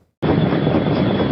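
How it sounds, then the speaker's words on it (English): Loud broadband roar of a Black Hawk helicopter of the Royal Canadian Mounted Police flying on border patrol, starting abruptly and holding steady and close. "The Royal Canadian Mounted Police have launched new Black Hawk helicopters to patrol the border with the United States"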